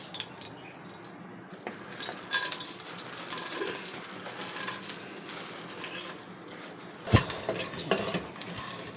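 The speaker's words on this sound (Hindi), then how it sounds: "मैंने 2 चम्मच घी डाला है, और अब हमने फूल मखाने की भी इसको फुला लेना है।" Fox nuts (makhana) roast in two spoons of hot ghee, stirred with a spoon that scrapes and clinks against the pan over a low, continuous sizzle, with a few sharper clatters near the end.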